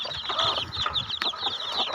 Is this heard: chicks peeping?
yes